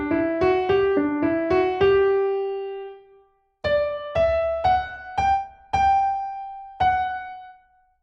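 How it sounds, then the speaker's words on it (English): Piano right-hand melody, a run of quick notes, a brief pause, then slower single notes ringing out clearly and close, played alone with no voices. "here's the right hand, and I'm just going to play the first 2 bars."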